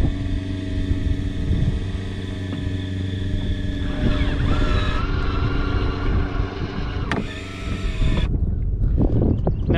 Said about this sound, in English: All you have to do is press one button on your remote and this thing will stow itself.